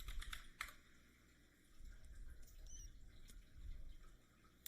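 Quiet, close clicks of typing on a computer keyboard, a handful of quick keystrokes in short bursts over a low background hum.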